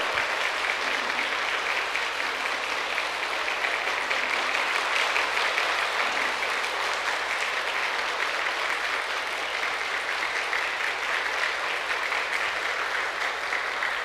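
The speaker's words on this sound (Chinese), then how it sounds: "大家请热烈的掌声" Sustained audience applause at a Buddhist lecture hall, steady dense clapping from a large crowd filling the whole stretch without a break.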